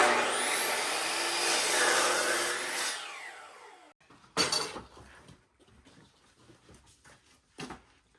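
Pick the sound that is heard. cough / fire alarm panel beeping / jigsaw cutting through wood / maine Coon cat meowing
jigsaw cutting through wood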